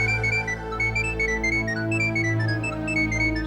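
A phone ringtone plays loudly and steadily, a repeating melodic electronic tune sounding close by with no talk over it.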